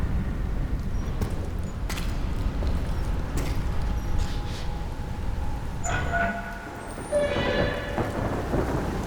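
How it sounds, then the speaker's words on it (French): A storm rages outside with a steady wash of heavy rain and rumbling thunder, loud and continuous, joined by a few brief higher tones near the end. "Dehors, la tempête gronde toujours."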